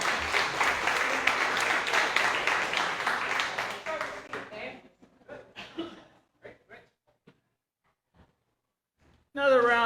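An audience at a story night in Bremerton, Washington claps loudly for about four seconds, then the applause thins into scattered claps and fades to near silence before a voice begins speaking.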